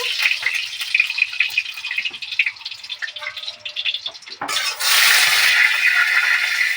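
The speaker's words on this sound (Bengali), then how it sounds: "কড়াইটাও গরম হয়ে গেছে এটাতে তেল দিয়ে দিচ্ছি" Oil poured into a hot wok bursts into a loud, close sizzle, a bright hissing spatter that jumps sharply in intensity partway through and holds steady, with light scraping before it and no talking.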